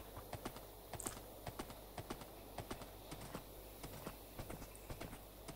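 Horse hooves clip-clop steadily in the video game Minecraft, a regular rhythmic trot of soft knocks repeating throughout, fairly quiet and with no talk over it.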